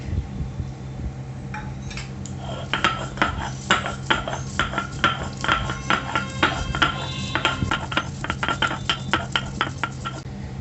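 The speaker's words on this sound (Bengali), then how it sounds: "আমি এটা এখন শিলে একটু বেটে নেব" Ingredients for a chingri potoler dolma ground on a shil grinding stone, rhythmic scraping and rubbing strokes repeating steadily at close range over a low background hum.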